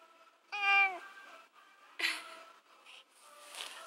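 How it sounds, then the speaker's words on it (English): A pet cat meows twice up close indoors, a long clear meow and then a shorter one, with soft breathing and faint rustling afterward. "I really don't know why he's always meowing so much."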